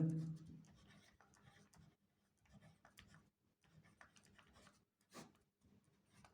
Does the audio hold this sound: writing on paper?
yes